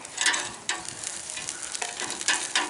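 Prime New York strip steaks being flipped in a hot pan, with loud sizzling bursts and clattering turns of utensils, close and continuous.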